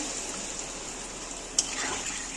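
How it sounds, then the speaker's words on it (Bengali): Water pours with a soft, steady hiss into a pot holding hilsa fish heads with taro and potato, set to boil, continuing faintly and evenly throughout with no talk. "এবার সামান্য জল দিয়ে দিলাম সেদ্ধ হওয়ার মতো"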